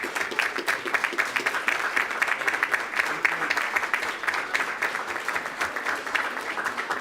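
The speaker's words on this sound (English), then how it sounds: "How about we give them a round of applause" Steady applause from a crowd at a school board meeting, dense clapping that continues evenly throughout without pause.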